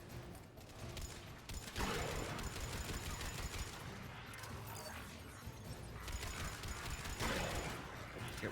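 Gunfire in Mass Effect 3, with sustained rapid weapon bursts rattling over mechanical clanking for several seconds and louder volleys near the start and end.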